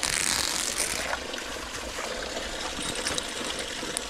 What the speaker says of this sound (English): there's actually a spring on the other side in the ditch that keeps flowing through here